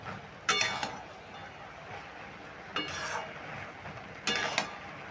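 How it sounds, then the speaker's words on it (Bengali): Fried mourola fish gets mixed into taro stems in a pan, with three separate clinks of a metal spoon against the pan spaced a couple of seconds apart over a quiet background. "মাছগুলো দিয়েও ভালো করে মিশিয়ে নেব।"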